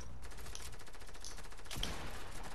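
Rapid gunfire in a Fortnite Creative one-on-one match: a dense, steady stream of loud, close automatic shots that runs without a break for the whole stretch.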